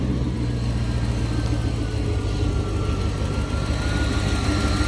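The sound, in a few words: 1992 Corvette engine starting and idling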